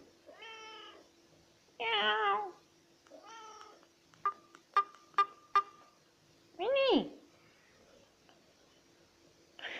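A house cat meows several times, each call a drawn-out, rising and falling cry, with a run of short, sharp tonal beeps in between; the meows are close and clear against a quiet room.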